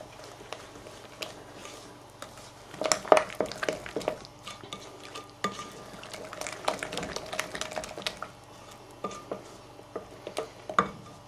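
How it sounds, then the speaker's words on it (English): A spoon stirs Vienna pudding custard mixture with sugar in a pot, giving irregular scraping and clinking strokes against the metal, louder in the middle stretch, fairly close and with no talk. "Give it a good stir."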